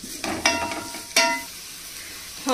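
Grated bottle gourd and dry fruits fry in hot ghee, giving a steady close sizzle broken by a few sharp stirring scrapes.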